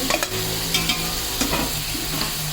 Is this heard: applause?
no